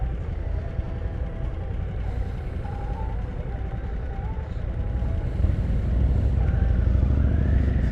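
A 2022 Harley-Davidson Nightster motorcycle under way, its steady low engine rumble and road noise continuous throughout and building slightly louder toward the end, with no voices.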